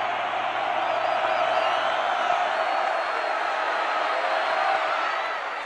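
A football stadium crowd at a 1985 Alabama at LSU game roars on a tense third-and-long play, a loud, sustained wall of cheering that barely dips before easing at the end.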